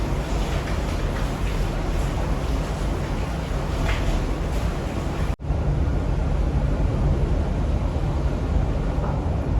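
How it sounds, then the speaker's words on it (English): Rain falls outside a cozy Airbnb room in Puerto Rico as a steady, dense hiss that fills the whole stretch, broken only by a brief dropout partway through. "you can hear the rain in the background"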